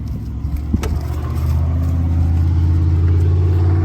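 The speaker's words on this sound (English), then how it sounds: "today we're going to cold start my 1990 Dodge diesel truck" A 1990 Dodge W250 four-wheel-drive truck with a 12-valve diesel cold starts up close, a brief cranking clatter catching into a loud, steady, rumbling idle that holds alone.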